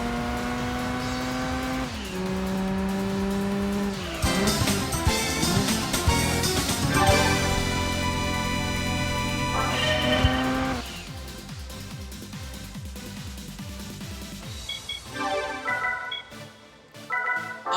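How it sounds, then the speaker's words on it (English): In the Gran Turismo 2 racing game, a car engine gives a loud, synthetic-sounding tone that climbs and drops with gear shifts, with tire squeal and quieter throttle blips toward the end. "I actually wonder how they got the engine sounds back in the day."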